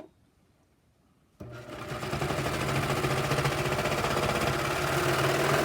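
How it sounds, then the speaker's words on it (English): A serger stitches tote bag fabric after a second of near silence, starting abruptly and running as a loud, steady, rapid mechanical whir close by for several seconds. "And then I'm going to serge these."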